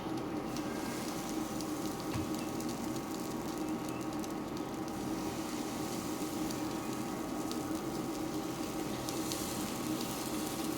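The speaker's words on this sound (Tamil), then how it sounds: "இப்போ வந்து வாங்க நம்ம அந்த அடையை வந்து ஊற்றிடலாம் ஒரு தோசைக்கல் ஒன்று அடுப்பில் வச்சுக்கிட்டேன்" Adai batter sizzles on a hot dosa griddle, a steady close crackling hiss that holds evenly throughout with no pauses and no talking.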